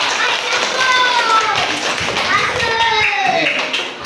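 Children in a classroom clap for a student with a quick, busy patter of small hands under excited kid voices, loud and close.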